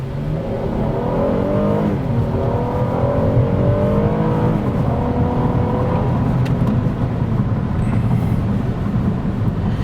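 A small Toyota car accelerates hard on a test track, its engine note climbing steadily in pitch through the gears. The loud, continuous drone carries road and wind roar, with no talk.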